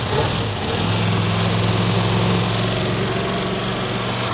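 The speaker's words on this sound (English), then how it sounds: "Wow, it runs pretty good except for the lifter clatter." A 1971 Plymouth Satellite's 383 V8, a farm-find car suffering lifter clatter, runs steadily at a fast idle, a continuous dense mechanical drone with rapid ticking texture, loud and close with no talking.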